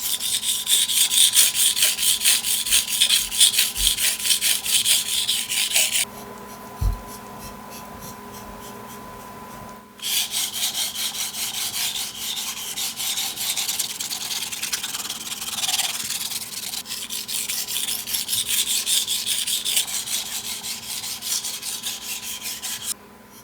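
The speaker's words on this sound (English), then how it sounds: "Same principle, sharpening the right side first, if that's how you started on the 600 grit, raise a burr, flip the blade, and sharpen on the left side." A kitchen knife blade rubbed back and forth on the 1200 grit side of a Japanese whetstone, steady rhythmic scraping strokes up close, broken by a short pause and a light knock before the sharpening resumes.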